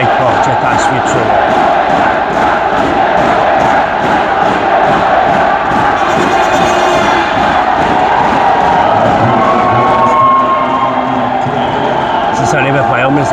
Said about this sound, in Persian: سالون یک پارچه تشویق شده